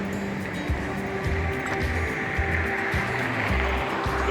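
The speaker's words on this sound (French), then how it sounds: "Toujours des bonnes vagues et pas mal de surfeurs à l'eau déjà." Ocean surf with surfers out in the water rumbles in a continuous wash of breaking waves, fairly loud and broad, with no voices over it.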